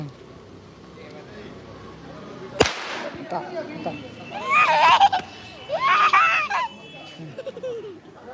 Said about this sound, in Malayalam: പടക്കം പൊട്ടി